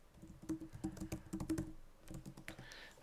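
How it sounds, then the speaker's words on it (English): Light, quick keystrokes patter on a computer keyboard while code is being written, close and fairly quiet, in uneven bursts with a brief pause near the end. "If I can type."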